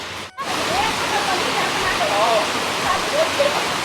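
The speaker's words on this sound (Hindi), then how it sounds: "बारिश होने लग गई।" Steady rain hisses evenly, broad and close, with a brief dropout near the start and faint chirps of background sound mixed in.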